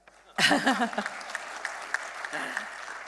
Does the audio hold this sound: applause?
yes